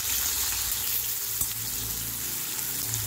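Pumpkin slices fry in hot oil in a pan while a home cook prepares an offering meal, giving a steady, close, continuous sizzle with no voices.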